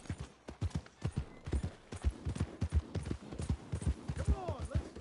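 Hooves clip-clop in a steady rhythm as a horse is ridden in Red Dead Redemption II. The beats are close and continuous, with a brief higher squeal near the end.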